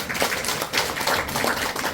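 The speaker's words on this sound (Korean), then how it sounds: "박수 치세요." An audience at a workshop lecture claps together in a dense, steady burst of many hands, fairly loud and without talk, lasting a couple of seconds.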